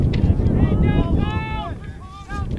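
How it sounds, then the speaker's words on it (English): Steady wind rumbles and buffets the microphone at an outdoor lacrosse championship game in Irvine, with talk and harmonic calls or whistles rising over the gusty low roar. "pretty windy here today"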